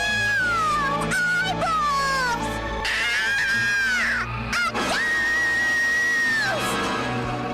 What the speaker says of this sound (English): As the kids walk in, the babies scream, freaking them out as the unscary haunted house becomes terrifying